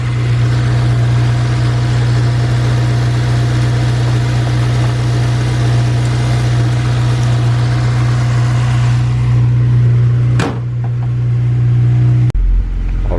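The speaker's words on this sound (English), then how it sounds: "Letting it cold start since I haven't ran the car for a while." A car's engine idles after a cold start, a loud, steady low hum and rumble close to the microphone. Near the end a couple of sharp clicks break in, and no one speaks.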